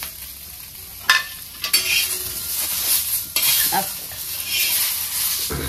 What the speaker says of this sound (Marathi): ह्या मिरचीमध्येच मी ही टमाटर टाकून घेणार आहे।